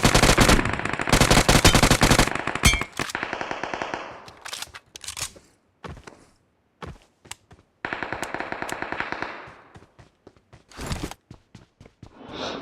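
Automatic gunfire from the mobile battle royale game BGMI crackles in long rapid bursts, loud and dense at first, then scattered single shots and short volleys, with a second heavy burst later.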